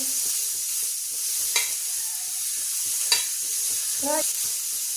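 Green chillies roasting in a pan for a Pandharpur-style bazaar amti give a soft steady sizzle, with a few sharp clinks and spoon scrapes breaking through at intervals.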